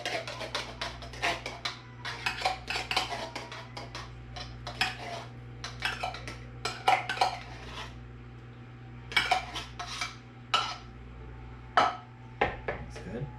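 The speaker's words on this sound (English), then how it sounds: "into my bowl, I'm gonna put the cream of mushroom soup" Cream of mushroom soup being scooped and scraped into a bowl for a turkey and green bean casserole, with repeated light clinks and scrapes of a utensil against the can and bowl, faint and close, with soft kitchen hum.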